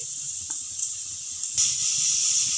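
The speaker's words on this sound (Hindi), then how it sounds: "ज़ीरा हम चटकने देंगे।" Cumin seeds crackling in hot oil in a kadai give a steady bright sizzle with faint pops, swelling noticeably louder partway through and holding there.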